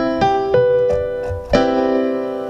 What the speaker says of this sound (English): That's a major ninth using all the white keys.